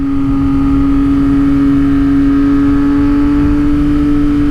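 A 2022 Yamaha XSR900 motorcycle engine drones loudly and steadily at close range while riding and shifting down a gear, with a strong constant engine tone and wind rush throughout.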